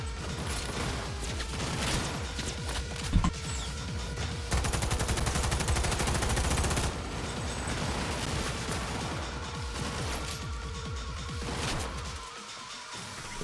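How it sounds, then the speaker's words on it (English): Rapid gunfire and explosive bursts from the Cyberpunk 2077 video game, with dense automatic volleys, sharp single shots and crashing impacts crowding together loudly over thirteen seconds before easing off near the end. "Shoot it down!"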